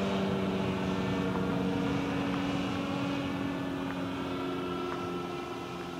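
A hang glider ultralight flies past near Cambaie on Réunion, its small propeller engine droning steadily at moderate loudness and fading slightly over several seconds.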